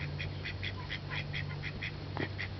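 Ducks quack in a quick repeated series while being herded along with chickens on a farm, their calls steady and fairly close over a low constant hum, with a brief sharper knock near the end.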